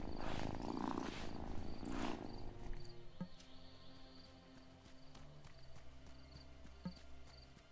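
Petting a cat in the game Wylde Flowers brings a low, steady purr that runs beneath louder game ambience, with a few brief clicks and a short burst of noise near the start.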